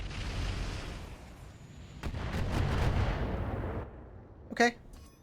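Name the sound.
Trebuchet mech shooting in video game RogueTech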